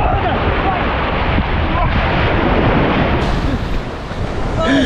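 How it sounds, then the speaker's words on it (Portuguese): Loud, rushing wind and crashing surf of an ocean wave breaking at sea dominate, a dense roar that dips briefly before swelling again, with people talking over it. "Cuidado com a onda."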